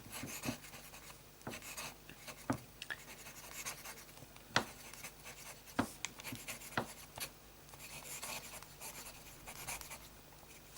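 A pen loaded with Montblanc Salzburger Festspiele ink scratches across slightly curled paper in short strokes and taps, quiet and close, with irregular pauses between marks.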